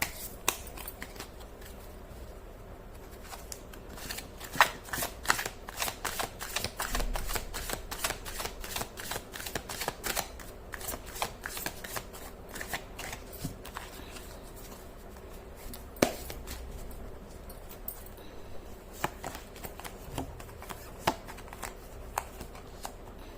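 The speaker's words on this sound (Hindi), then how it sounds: "कर लेती हूँ कार्ड की शफलिंग।" Tarot cards are shuffled by hand, giving a steady run of close, crisp riffles and papery slaps with sharper snaps now and then, and no talking.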